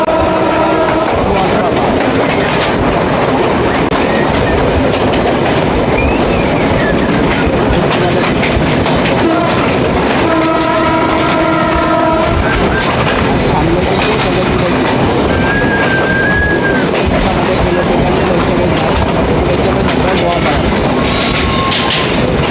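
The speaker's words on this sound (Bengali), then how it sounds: "এখন আমাদের ট্রেনটা আবার স্পিডে চলা শুরু হয়ে গেছে" A train runs at speed through Daulatpur Bazar in Bangladesh, its loud continuous rumble and rattling wheels heard from on board, with a brief horn blast and people talking under the noise.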